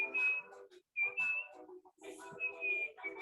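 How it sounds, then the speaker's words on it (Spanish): Someone whistles thin, sustained high notes in several short phrases, close and fairly clear, heard over a low background murmur during an online seminar. "alguien me está silbando ahí"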